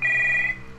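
A telephone ringing behind a door in the video game Stories Untold, one short, loud electronic ring that cuts off and leaves faint background hum.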